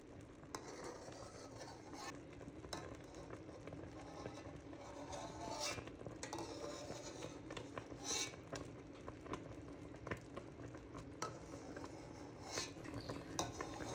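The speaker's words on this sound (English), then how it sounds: "So I'm just taking my spoon and I'm getting rid of a lot of the foam" A spoon scrapes and clinks against the sides of a pot while skimming foam from boiling strawberry rhubarb jam, with steady bubbling underneath and intermittent light metallic taps throughout.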